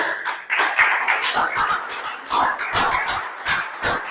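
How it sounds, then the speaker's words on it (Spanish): A church congregation claps during a Spanish sermon, a loose round of many hands with some sharper individual claps standing out near the end, moderately close and without speech over it. "Dale otro aplauso a Dios."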